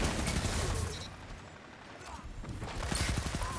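Rapid hip-fired gunshots from a gun in a Destiny match ring out in short bursts, loudest near the end, set against a busy battle din.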